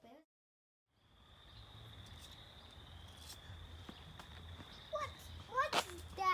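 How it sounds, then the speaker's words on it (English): A cricket chirps with a steady high trill that runs through most of the stretch, faint against quiet outdoor background, with a few soft knocks and rustles near the end. "What's that creature I hear? It's a cricket."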